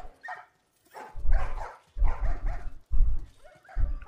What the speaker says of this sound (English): Oh, look at the doggos.